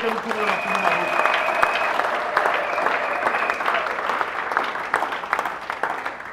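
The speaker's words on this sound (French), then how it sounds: "Acclamons le roi des rois." A church congregation applauds continuously for several seconds, dense hand-clapping filling the space, with a voice speaking and singing over it and some rhythmic claps emerging near the end.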